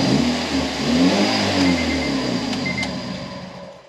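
An engine running with no muffler, exhaust only through the collector, revs up loudly in raw, rising and falling pulls, then settles and fades slightly toward the end, heard close with no talk.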